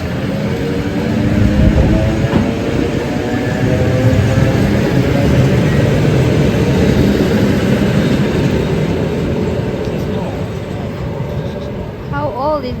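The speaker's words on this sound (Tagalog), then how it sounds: "yan o yung train" A train rolls past in Russia as a steady, loud rumble of wheels and carriages that holds throughout, with people talking faintly nearby.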